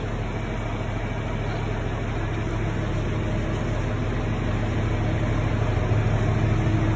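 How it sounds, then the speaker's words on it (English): A farm tractor idles steadily with its power takeoff shaft spinning, a continuous low engine drone with even mechanical hum, constant and fairly close, no voices. "the tractor's running, the power takeoff is spinning, the guard is not, which is a good thing"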